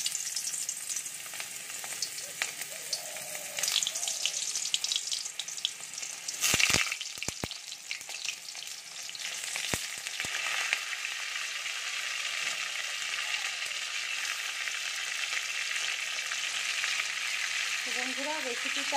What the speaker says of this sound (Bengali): এবারে এই যে ডিম আর পটলের যে পুডিংটা করেছিলাম আমি একে একে এগুলোকে ভেজে নেব